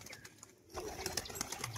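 A male pigeon cooing in a loft among other birds, soft low coos over a busy, noisy background of fluttering and chatter.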